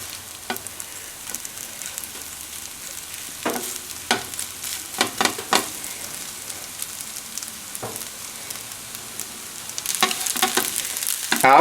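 Rice and cheese pan-frying in a hot pan, a steady soft sizzle with sharper crackling bursts and pops scattered throughout, fairly close and moderately loud, no voices.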